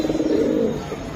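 Giribaz pigeons cooing at a seller's stall, a soft low throaty coo rolling steadily close by with no talk over it.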